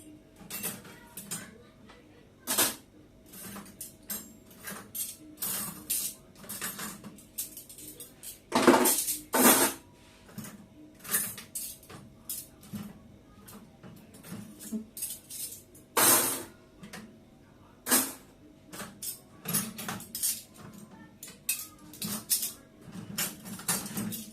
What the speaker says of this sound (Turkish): Onları da koyup hemen şu kirli bulaşıkları yerine yerleştirip